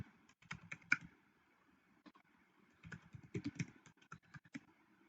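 Faint, close typing of a password on a computer keyboard: two short bursts of soft key clicks separated by a quiet pause, with no talking.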